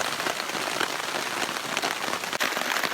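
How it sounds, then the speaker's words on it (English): Steady, close rain drums on a camping tarp as a dense, even patter of drops that continues without a break and with no voices. "Love to hear the sound of rain on the tarp."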